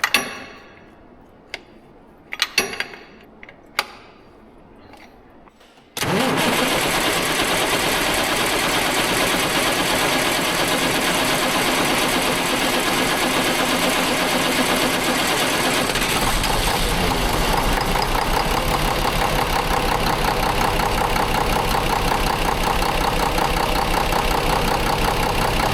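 A Mack semi truck diesel engine gives several short cranking bursts, then fires and settles into a loud, steady running rumble close by that continues to the end.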